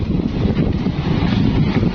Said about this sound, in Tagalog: Malakas din kasi ang hangin.